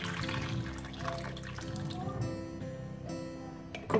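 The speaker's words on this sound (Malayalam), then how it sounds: "കുറച്ച് വെള്ളം ചേർത്ത് കൊടുക്കാം." Water pours steadily into a pressure cooker holding two washed potatoes and salt, a continuous close splashing fill over a low background hum.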